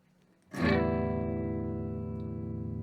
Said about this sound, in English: I just want to show you what that distortion sound would sound like on its own